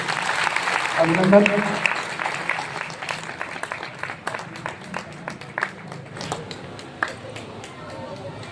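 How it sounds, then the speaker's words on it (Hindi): Crowd at a religious gathering with a Shankaracharya in Saldha, Bemetara breaks into applause, loud clapping and a brief spoken word at first, then thinning into scattered individual claps that fade over several seconds. "एक बार जोरदार तालियों से"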